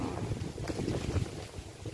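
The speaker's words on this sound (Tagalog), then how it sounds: "Kaso yung hangin naman hindi naman humihinto." Strong, steady wind gusts across an open farm field, roaring and buffeting the microphone continuously with no letup, close and fairly loud throughout.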